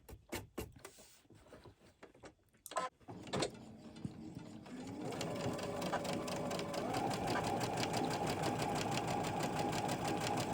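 A sewing machine stitches through two layers of fabric for a winter table runner. A few clicks and handling noises come first, then a close, steady, rapid mechanical whir runs through to the end.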